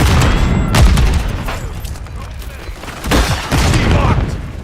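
A Semtex grenade explodes in a video game shooter, with deep booming blasts and rumbling bursts of gunfire around them, loud and close.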